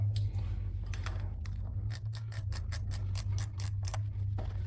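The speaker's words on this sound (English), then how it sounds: "I'm gonna go ahead and tighten up this rim lock now" A dirt bike rim lock is tightened with a hand tool that makes rapid ratcheting clicks, close and continuous over a low steady hum.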